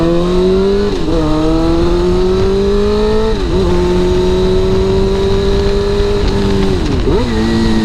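A motorcycle engine revs loud and close, its pitch climbing steadily then blipping sharply upward at each downshift as the rider rev matches, repeated three times over a continuous drone with no talk.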